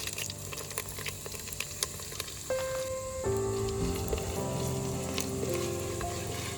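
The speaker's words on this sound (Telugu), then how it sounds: "అదే కడాయిలో జీలకర్ర, ఆవాలు వేసుకుందాం." Green chilies, cumin and mustard seeds sizzle in hot oil in a kadai, a loud steady crackling hiss that swells as fresh ingredients drop in, with no voice over it.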